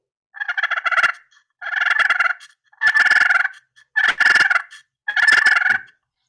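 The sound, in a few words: turkey purr imitated on a friction call with striker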